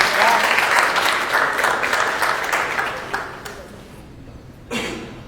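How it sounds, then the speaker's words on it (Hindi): Audience applause welcoming a poet to the stage at a mushaira, dense clapping from a crowd that gradually thins and fades, with a brief renewed burst near the end. "भरपूर तालियों से इस्तकबाल कीजिए।"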